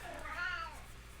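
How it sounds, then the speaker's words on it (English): A house cat meows once in the background, a single rising-and-falling call standing out over a steady low room hum. "You're hearing the cat in the background."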